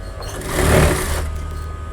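A sewing machine runs in one short continuous burst while stitching the shoulder seam of a collar blouse, its motor hum swelling in the middle and easing off, close and steady with no talk.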